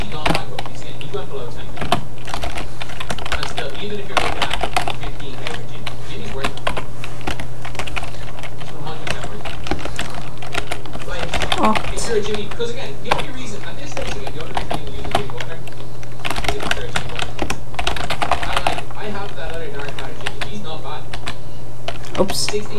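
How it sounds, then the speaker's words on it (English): Steady typing on a computer keyboard, rapid clicking keystrokes in bursts over a constant low hum, with a person talking throughout. "I'll just keep typing."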